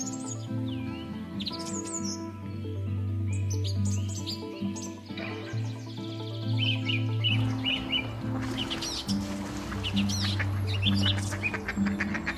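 A male mandarin duck calls in a run of short, high chirping whistles, with other bird calls and a steady low hum in the background and no talking.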